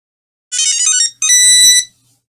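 A loud electronic ringtone from an early 2000s cell phone plays in two bright, tonal bursts, a short gap between them, with no talking.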